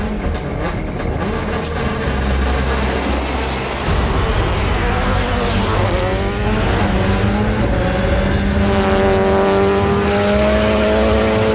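Subaru WRC rally car revving and pulling away from the start, a loud, continuous engine roar that climbs in pitch through the gears, with a harsh rasping exhaust note close to the listener.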